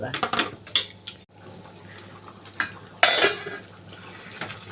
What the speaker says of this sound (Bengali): এবার মটরটা ঢেলে দিলাম, দিয়ে নাড়াচাড়া করে নেবো